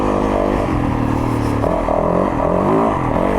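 Yamaha YZ450FX 450 motorcycle engine revving hard on the throttle, a loud close-up growl that rises and falls in quick pulses with a clattering mechanical edge throughout.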